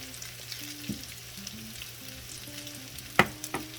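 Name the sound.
veggie pancake frying in a pan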